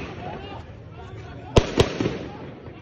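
Police gunfire in Pétionville during street unrest: two sharp, loud reports about a quarter second apart, then a fainter third crack, over a murmuring crowd and background voices.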